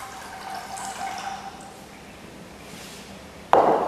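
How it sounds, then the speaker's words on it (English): Water pours into a pot while making miso soup, a sudden loud splashing gush starting near the end after a quiet kitchen stretch with faint faucet-like hiss. "Now we're going to add water."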